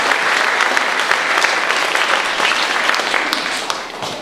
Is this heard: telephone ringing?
no